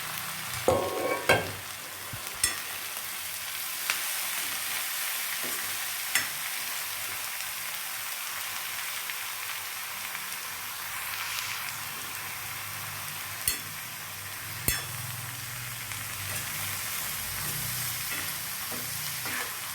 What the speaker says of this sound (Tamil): நல்லா இப்படி கிளறி விட்டுக்கலாம்